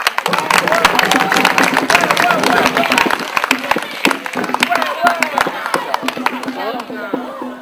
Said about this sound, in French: on peut encore applaudir pour la première